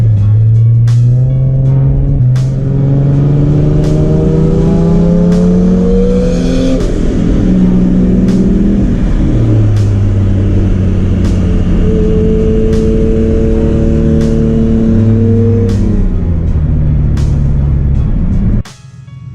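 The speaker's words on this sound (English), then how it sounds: "You can definitely hear the oil pump." A turbocharged Nissan G35 engine drones loudly and close while cruising, its pitch rising and falling through repeated shifts, with a continuous mechanical hum beneath before it cuts off abruptly at the end.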